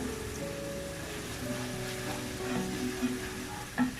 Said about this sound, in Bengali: আমার আদা রসুন ভাজা হয়ে গেছে